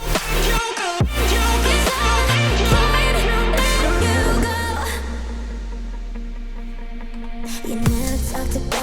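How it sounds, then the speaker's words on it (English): A future bass passage with deep booming sub-drop hits, a reverberant snare, and a sweeping reversed swell, dense and loud throughout. "future bass reverb snare, and a sub drop after, and then some type of reverse"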